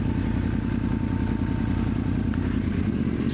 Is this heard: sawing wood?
no